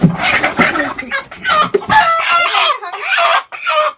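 Country chickens in a Sundarban village yard cluck and squawk loudly and close by, in a busy run of overlapping calls with brief pauses, with no talking over them.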